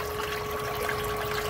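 A DIY fresh-water treatment system pumps and mixes water in a drum, giving a steady, fairly quiet rush of moving, trickling water under a constant pump tone.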